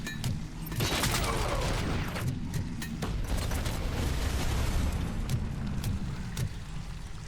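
An OCP turret firing in the video game RoboCop: Rogue City, a dense, continuous barrage of gunfire and impacts that lasts throughout, loud and close over rumbling action noise, with a voice faintly present.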